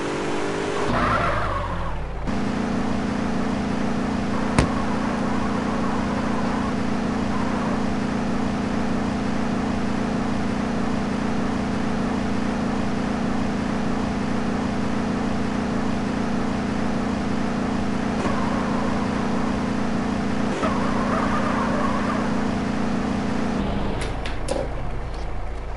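A car rolling down a flight of stairs in GTA San Andreas: a steady engine drone runs throughout, loud and close, with faint tire scrubbing and a few brief knocks near the start and end, with no talk over it.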